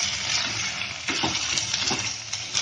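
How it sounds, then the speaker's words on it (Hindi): Chicken with added spice powders and salt frying and being stirred in a pan for a low-oil chicken stew, giving a steady close hiss with soft scraping strokes throughout. "तो हम इसे अच्छी तरह मिक्स करेंगे और 2 मिनट तक हम इसे भूनेंगे।"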